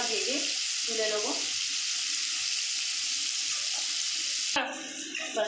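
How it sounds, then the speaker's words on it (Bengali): Paneer cubes frying in oil in a pan with turmeric and chilli powder give a steady, close sizzle throughout. A voice talks over it, and a sharp utensil knock sounds near the end. "আমি পনিরগুলো হালকা ভেজে তুলে নেবো।"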